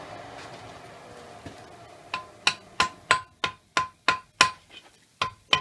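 A hammer strikes a forge weld on a Damascus steel short sword, about a dozen sharp ringing metallic blows in a steady rhythm after a quieter start, close and loud with no talk.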